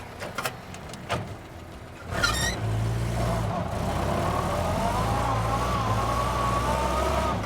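A Jeep Willys engine rises into a steady, strained drone as the vehicle pulls forward out of being stuck, after a few sharp knocks and clunks near the start.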